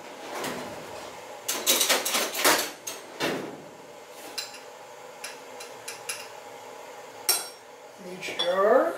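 A spoon clinks and scrapes as minced grocery-store garlic goes into glass jars, irregular bursts of knocks and taps against glass, with a brief voice near the end.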